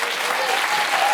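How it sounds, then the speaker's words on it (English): An audience claps steadily at a political talk, the applause dense and continuous throughout, with a faint voice underneath. "his audience claps"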